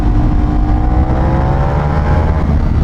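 Motorcycle engine revving hard while a large bike is ridden on a hilly road, a loud continuous drone with shifting pitch and steady wind rush throughout.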